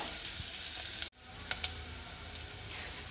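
Onion, garlic and green chilli sizzle quietly in a pan, the hiss dropping out for a moment before picking back up, with a couple of soft scraping stirs.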